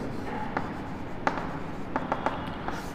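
Marker or chalk strokes tap and scrape across a classroom board in scattered short bursts, fairly close and steady, with no talking over them.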